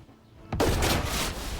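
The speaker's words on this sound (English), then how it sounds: "His Majesty's artillery is here." Artillery fire in the World War II strategy game Headquarters: after a quiet moment, a sudden loud blast erupts and rolls on as a sustained rumbling barrage of overlapping explosions.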